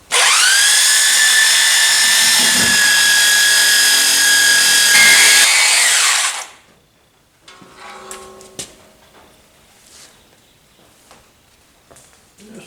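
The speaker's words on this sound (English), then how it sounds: "Now I've got some 60 grit on this sander right here, and let's see what we can accomplish with that." A power sander fitted with 60 grit paper whines loudly and steadily for about six seconds against a car's rear quarter body panel, then spins down, followed by scattered knocks and handling sounds.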